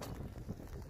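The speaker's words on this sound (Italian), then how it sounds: "c'è il vento che mi scombiglia i capelli" Wind blows outdoors on a foggy, rainy hillside, a steady low rumbling buffet against the microphone lasting the whole second, with no voices.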